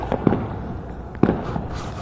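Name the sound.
fireworks bursting at New Year's midnight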